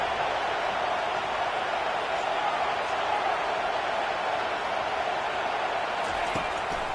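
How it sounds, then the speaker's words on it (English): Stadium crowd in the NCAA 25 college football video game, a dense, continuous roar held at steady loudness throughout as the home fans try to help their defense. "Listen to this crowd just shaking the girders of this place,"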